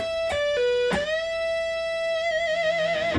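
Electric guitar plays quick picked notes with a pull-off, then a note bent up a full step and held with slight vibrato, clean and close.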